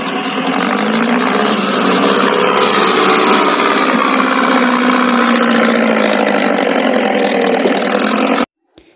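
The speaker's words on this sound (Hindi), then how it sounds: "Tractor means tractor." A tractor engine runs steadily and loudly at close range, a continuous mechanical drone lasting most of the clip before cutting off abruptly near the end.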